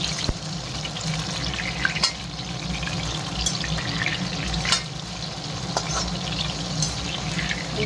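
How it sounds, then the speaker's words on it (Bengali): Batter-coated chilli chicken pieces frying in a pan, turned as they cook: a steady, fairly soft sizzle of hot oil with scattered crackles and light clinks, heard close and without talk. "উল্টে পাল্টে ভালো করে ভেজে নিই"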